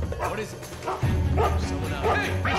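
Dog barking in the stealth game Mark of the Ninja, a few short barks repeating at a moderate distance over steady game music and ambience, with a voice talking throughout.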